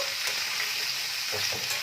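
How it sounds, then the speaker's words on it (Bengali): Potato and drumstick pieces fry together in a pan with a steady, close sizzle and hiss, plus a few soft stirring scrapes and shuffles; no voices. "এইভাবে আমি এখন ভাজছি এটাকে।"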